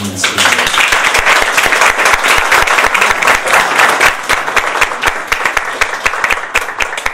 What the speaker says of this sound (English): Give a big round of applause for Gregory F. Burton.